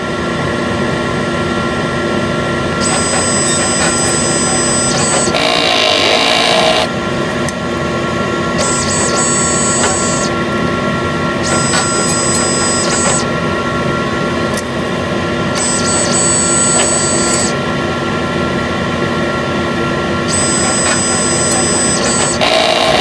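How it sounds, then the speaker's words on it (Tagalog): A Smart One sublimation printer running: a steady mechanical hum and whir throughout, with repeated higher whine bursts as the print head carriage moves back and forth, loud and close with no talk. "Ito po ang Smart One printer."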